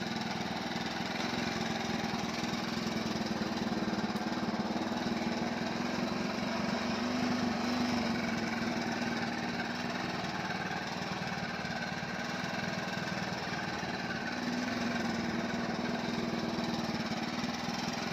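A restored Honda C100 motorcycle with its original engine idles steadily with a low, even rumble and rattling hum throughout, close by and constant, with no talking over it.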